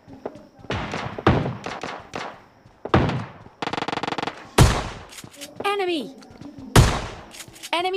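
Gunfire in the mobile game PUBG Mobile Lite, including shotgun blasts: sharp separate shots and a short rapid burst, mixed with thuds. Someone talks over the action in between.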